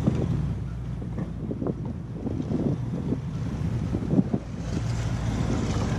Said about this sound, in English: So now we're gonna place both engines in reverse.